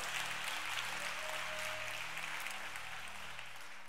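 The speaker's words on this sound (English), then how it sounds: "Clap your hands if you're in expectation of God's word." A church congregation claps their hands at a sermon, a broad continuous patter of many hands under a low hum and sustained tones, steady and moderately loud from start to finish.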